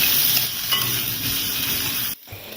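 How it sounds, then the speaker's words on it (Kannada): Chopped onion and green chilies with bay leaves frying in a pan, a steady close sizzle with occasional stirring scrapes, cutting off abruptly near the end before resuming faintly. "ಈರುಳ್ಳಿ ಟ್ರಾನ್ಸ್ಪರೆಂಟ್ ಆಗೋವರೆಗೂ ಇದನ್ನು ಸುಟ್ಕೋಬೇಕು."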